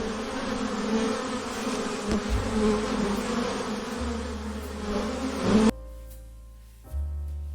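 Honey bee buzzing steadily and fairly loud for most of the stretch, then cutting off abruptly near the end, leaving quieter low tones.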